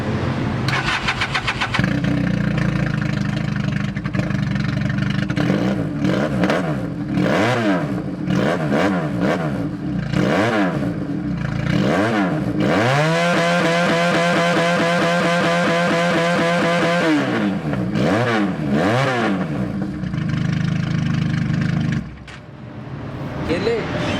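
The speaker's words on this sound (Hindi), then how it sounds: "बढ़ते हैं 350R की जानिब और इसमें M4 का एग्जॉस्ट ऑलरेडी इंस्टॉल्ड है। इसकी साउंड भी सुन लेते हैं।" A Valentino 350R motorcycle fitted with an M4 exhaust revs hard and close, with repeated rising and falling throttle blips and one long sustained high rev, ending as the engine settles.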